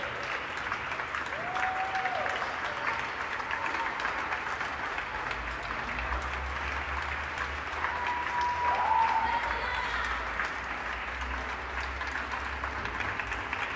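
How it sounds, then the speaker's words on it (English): Applause from people clapping on the streets of Barcelona, a steady distant wash of many hands that continues without pause, with a brief swell near the middle. "There's actually more people clapping today than normal."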